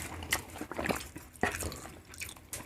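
Someone bites into crunchy Korean fried chicken, giving several quiet, close crunches and chewing sounds at an uneven pace, with no talking.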